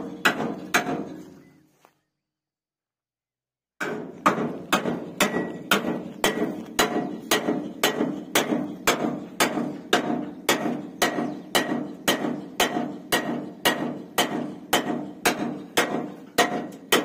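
Steady hammer blows ring out at a JCB 3DX mud-loading site with a tractor trolley, a pause of silence interrupting them before regular, evenly spaced strikes resume loud and close, about one per second, with no talk.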